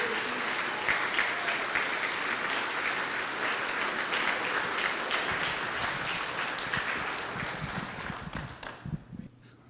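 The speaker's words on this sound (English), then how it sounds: "one more time, one quick round of applause" An audience at a 2025 conference awards ceremony gives sustained loud applause that thins out and fades near the end, leaving a few scattered claps.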